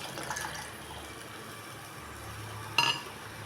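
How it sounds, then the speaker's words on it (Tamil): Tamarind water is poured into a pan while making rasam, giving a steady liquid pour with a brief clink of a vessel near the end. "கரைச்சி வச்ச புளி தண்ணியை ஊற்றிக்கலாம்."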